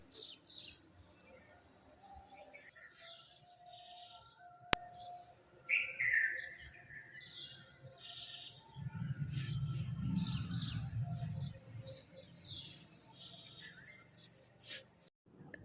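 Small birds chirp and tweet in repeated bursts from a balcony in the early morning, fairly faint, with a low hum rising briefly in the middle.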